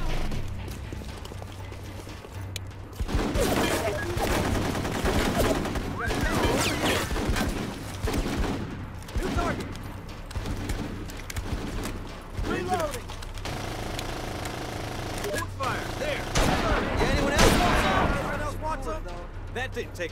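Gunfire in the Full Spectrum Warrior video game rattles in repeated bursts and single cracks throughout, mixed with crashing impacts under frequent shouted squad voices.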